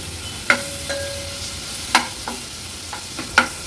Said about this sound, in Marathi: हे आपलं आता वाटण तेलावर थोडंसं परतून घ्यायचं